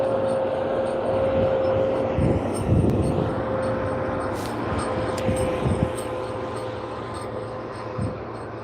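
A WestJet Boeing 737 airliner on approach to land gives a steady, droning engine hum with a sustained tone, carried at a distance over background airport rumble.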